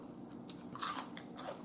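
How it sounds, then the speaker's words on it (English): Biting into crunchy air-fried chicken thighs and french fries, with several sharp crunches and crackles close to the mic over a quiet background, the loudest snap in the middle. "This is an air fried crunch."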